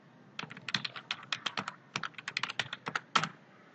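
Typing on a computer keyboard: a quick run of light, close key clicks in uneven bursts, alone with no voices.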